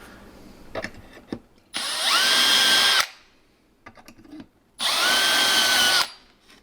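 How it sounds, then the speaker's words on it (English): A power drill whines loudly into wood in two sustained bursts, rising in pitch as it bites while spotting closet holes, with quiet handling clicks between. "I just spot it. I don't drill all the way through."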